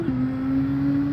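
A race car engine in Gran Turismo 7 holds a steady high drone after a quick pitch drop near the start, loud and constant with no voices.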